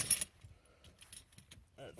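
Keys for a Ford Crown Victoria jangle in a quick, close burst right at the start, followed by a few faint clinks and soft handling noises.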